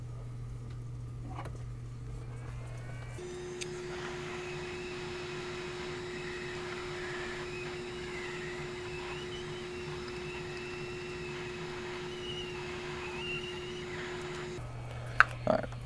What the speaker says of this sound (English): So I'm gonna take my heat gun, we're gonna remove this chip and move it on over there.